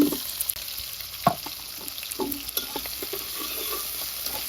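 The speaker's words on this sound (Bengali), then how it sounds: "আজকে একটু নুডলস রান্না করতেছি সসেজ দিয়ে" Noodles and sausage frying in a pan, giving a steady close sizzle with occasional scraping and stirring knocks and no voices.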